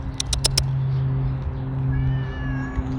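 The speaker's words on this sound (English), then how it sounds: "Hey, kitty, I see you." A cat out in the rain gives a single drawn-out meow, moderately close, over a low steady hum, after a few sharp clicks at the start.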